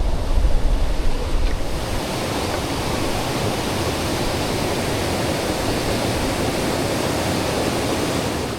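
A river waterfall roars steadily and loudly close to a canoe near Point Grondine Park on Georgian Bay, with a heavier rumble at the start before it settles into continuous rushing water.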